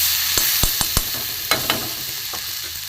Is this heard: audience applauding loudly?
no